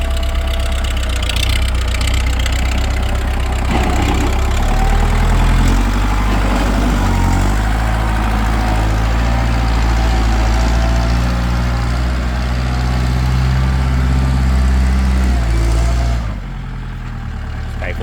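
A 2011 Kubota L4708 tractor's four-cylinder 47-horsepower direct-injection diesel engine runs steadily at close range, a loud continuous low rumble that holds for most of the stretch before easing slightly near the end.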